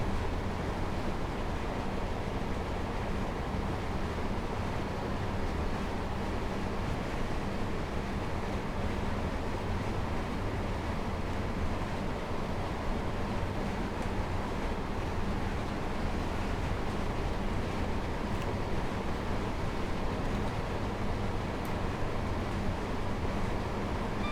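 A train in the Train Simulator video game, running between Liverpool Lime Street and Manchester Victoria, makes a steady, dense rumble and rattle that rolls on without pause at an even level throughout.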